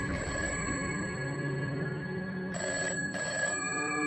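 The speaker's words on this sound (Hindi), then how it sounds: "तभी एकदम से एक टेलीफोन की घंटी बजने लगी।" An old-style telephone bell rings in two distinct bursts over a constant humming background, loud and close, with a short pause between rings.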